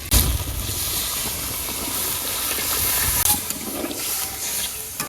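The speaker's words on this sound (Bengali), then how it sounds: "আলু কষানো হয়ে গেছে আমি একটু জল দিয়ে দেই" A loud, continuous hiss and sizzle as water is poured onto potatoes frying in a pan, steam rushing throughout, close by and without speech.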